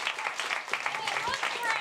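An audience at a comedy talk show applauds, a bright wash of clapping that runs throughout, with voices mixed in underneath.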